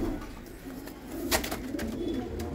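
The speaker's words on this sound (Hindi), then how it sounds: "ये है उस्ताद अब्बा शरीफ के कबूतरों के जोड़ों का सेटअप" Pakistani White Bar pigeons in a breeding setup in Delhi give soft, low coos close by, continuing over faint background noise.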